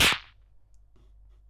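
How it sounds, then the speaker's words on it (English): A single heavily distorted 909 kick drum hits hard and close, then a short bright snapping tail like a whip fades quickly into near silence. "It's a 909 kick with just too much distortion."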